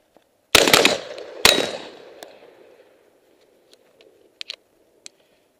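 A semi-automatic gas-piston rifle fires two quick, sharp, loud shots about a second apart, each ringing out into a fading echo, followed by a few faint clicks and taps.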